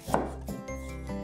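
A knife slices ginger thinly on a cutting board for Laksa Johor, giving a quick close chop followed by a soft lingering scrape, with no talk.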